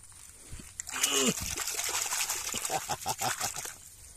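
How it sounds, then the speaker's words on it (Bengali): Lake water in a beel (wetland) splashes and trickles close by as hands are rinsed, with a voice speaking briefly over the sloshing. "বিলের পানিতে হাত ধুলাম।"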